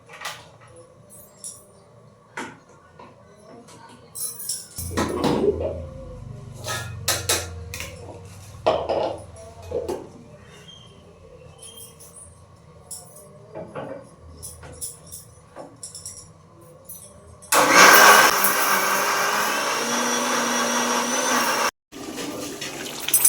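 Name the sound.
grinding spice paste (masala)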